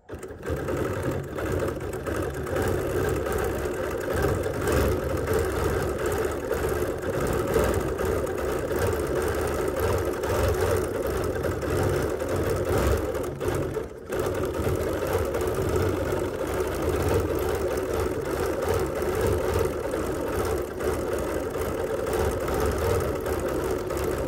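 A quilting machine stitches a flying geese quilt with a continuous rapid mechanical whirring and needle chatter, steady and close, with a brief pause partway through.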